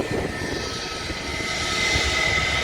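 Big airliner jet engines roaring steadily at an airport, a broad continuous rumble with a whining tone, growing slightly louder toward the end, with no talk over it.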